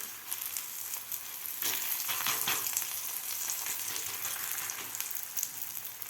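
Bajra thalipeeth fries in oil on a pan with a continuous, even sizzle that crackles steadily from start to finish, with no talking.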